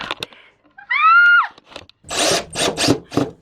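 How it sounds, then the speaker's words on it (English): Power drill driving screws into the top of an IKEA PAX wardrobe, with a rising whine as the motor spins up, then a few short bursts of grinding and rattling, close and loud. "we're gonna start screwing in the last top"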